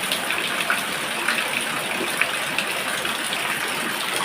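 Water gushes steadily into a storage container, a constant splashing rush with no pauses, fairly close.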